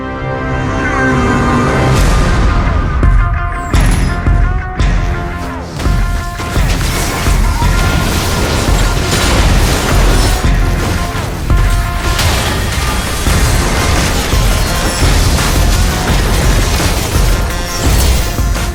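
Booming cannon fire and explosions in the League of Legends: Wild Rift video game, dense and loud throughout, layered over music with crashes and impacts.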